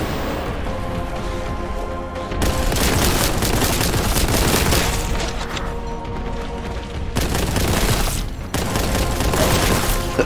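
Heavy, rapid gunfire in the shooter game Warhammer 40K Boltgun, loud sustained bursts of booming shots with sharp impacts and explosions, pausing briefly between volleys, with no talking.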